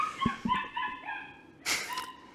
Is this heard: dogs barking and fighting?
yes